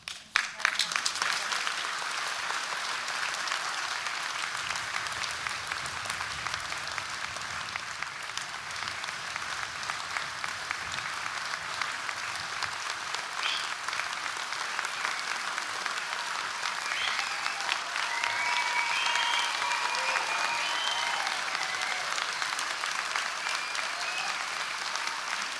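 Sustained applause from a large audience at a university graduation ceremony fills the hall, steady and dense for the whole stretch after a brief opening sound, with no voices standing out.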